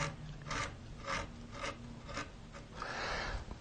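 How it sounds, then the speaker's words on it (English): A flat gouge carves wood for butterfly and moth wings, giving a series of close, dry scraping strokes, roughly one every half second, ending in a longer rasping cut, with no talking. "This is a flat gouge, so we don't take too much down into here."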